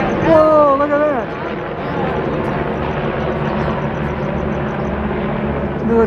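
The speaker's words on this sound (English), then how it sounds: "Military helicopters." A person speaks briefly at first, then a steady engine drone of military helicopters flying overhead in Old Town Pasadena, California fills the air, loud and continuous.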